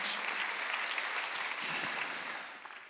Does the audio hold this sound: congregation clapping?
yes